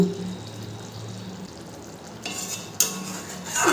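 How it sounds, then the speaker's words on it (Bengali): Doi potol, a yogurt-based pointed gourd curry, is stirred in a pan with soft sizzling and wet scraping, plus a couple of sharper spoon scrapes near the end; no talking. "ভালো করে একটু নেড়ে দেব।"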